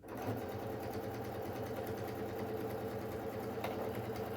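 A sewing machine runs continuously while stitching a mock flatlock hem, as on jeans, making a loud, steady, close mechanical whir with no pauses and no talk.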